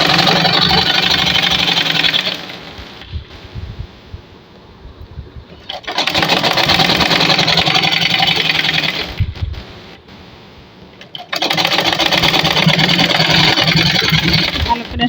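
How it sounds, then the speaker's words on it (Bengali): A sewing machine stitching pajama fabric runs in loud, steady whirring bursts, stopping briefly and starting again twice, close by, with a faint background between runs. "ভালো করে শেষ মাথায় আটকে এখন রাবারের উপর দিয়ে আরেকটা সেলাই দিব।"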